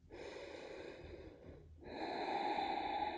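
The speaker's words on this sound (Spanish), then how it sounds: "Una respiración más." Deep yoga breathing: a long, audible inhale through the nose, a brief pause, then a fuller, louder breath close to the listener, airy and wheezy in texture.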